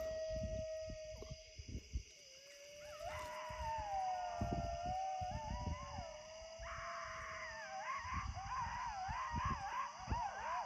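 Coyotes howl and yip at night near a lake, with wavering high howls rising and overlapping across the stretch, while low thumps and handling noise sit underneath.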